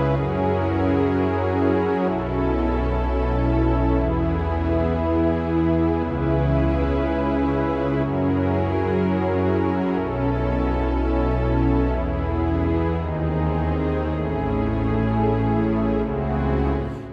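A Roland Fantom 8 synthesizer plays a sustained keyboard scene, rich layered chords changing every couple of seconds over a steady bass, loud and continuous with no talking.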